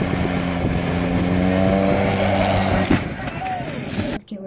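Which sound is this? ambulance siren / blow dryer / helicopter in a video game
helicopter in a video game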